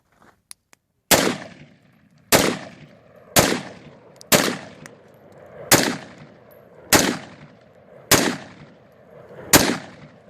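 A Colt AR-15 rifle fires single shots at a wall board, eight loud sharp cracks spaced about a second apart, each trailing into a brief echo, preceded by a few faint clicks.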